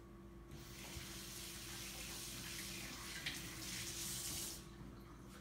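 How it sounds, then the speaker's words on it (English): Hands are washed with soap and water under a running kitchen sink tap while baking sugar cookies, a steady close splashing rush that stops abruptly near the end. "So the first thing you're going to need to do is wash your hands."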